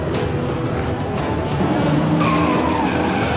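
Race cars in a Gran Turismo video game skid with sustained tire squeal over a steady engine roar, loud and continuous, with a rising whine toward the end.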